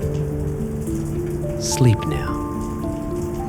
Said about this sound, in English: The rain is still falling, but it's a lullaby now, not a threat.